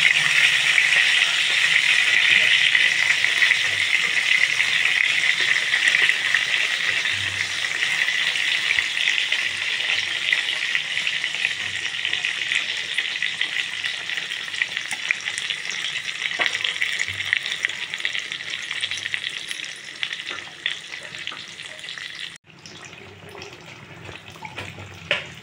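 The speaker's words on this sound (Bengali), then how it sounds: "বেগুনগুলো ভালো করে ভেজে নেওয়া হবে।" Eggplant pieces fry in hot oil in a pan, giving a loud, dense, continuous sizzle that stays steady for most of the time and eases slightly toward the end, with no talking.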